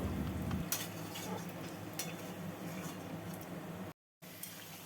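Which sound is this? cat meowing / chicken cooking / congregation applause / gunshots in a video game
chicken cooking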